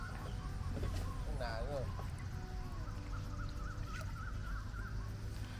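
Chickens cluck and warble in the background over a steady outdoor hum, with faint voices mixed in.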